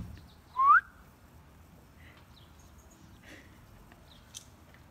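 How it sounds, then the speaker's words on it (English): A single short, bright rising whistle from a person sounds once early on, followed by quiet with faint scattered small noises. "He doesn't know where my whistle's coming from."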